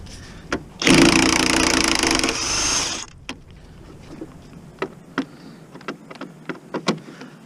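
A handheld DeWalt power tool whirs in one loud burst of about two seconds, winding down, followed by scattered clicks and light knocks while working on a Hummer H2 battery.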